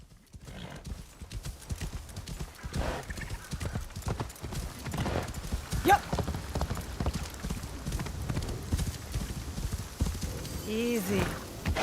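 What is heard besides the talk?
horse galloping and neighing in video game Assassin's Creed Shadows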